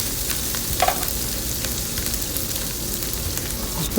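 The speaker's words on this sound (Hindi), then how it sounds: "ये हम बघार तैयार कर रहे हैं। तो इसमें मैंने हरी मिर्चें डाल दी हैं जो चॉप की थी।" Chopped green chillies fry in a cumin tempering, giving a steady close crackle and sizzle with faint pops of oil throughout.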